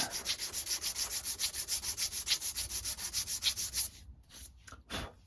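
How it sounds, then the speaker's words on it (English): Rhythmic rubbing of sandpaper on a wooden crossbow roller nut, quick regular back-and-forth strokes close up, stopping near the end with a couple of last scrapes. "I like to rotate a little bit when I'm doing this as well, just to make sure that it's getting evenly sanded"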